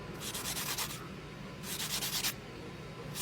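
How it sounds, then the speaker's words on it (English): Sandpaper rubs on a plastic Neopixel blade plug in two short bursts of rapid back-and-forth scratching, close and quiet, with nothing else heard. "So we're just gonna keep sanding."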